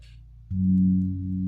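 A single low gamelan kempul gong tone enters after a faint hum and rings on steadily, deep and sustained, fading slightly as it holds.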